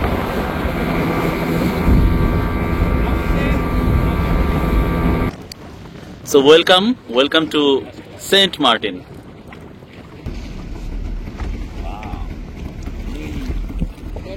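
A speedboat crossing rough sea to Saint Martin Island roars loudly with engine and wind noise for several seconds, then someone talks as a quieter engine drone continues underneath.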